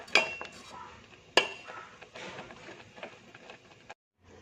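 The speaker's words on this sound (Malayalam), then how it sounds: "നന്നായി ഇളക്കി കൊടുക്കുക." Pudding mix is stirred in a pan with a utensil, giving soft scraping and a couple of sharper clinks against the metal, close and quiet, before stopping near the end.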